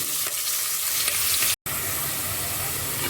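Onions frying in hot oil until deep red for a hotel-style soya and vegetable pulao, a dense steady sizzle close by, cut by a brief dropout midway, with no talking.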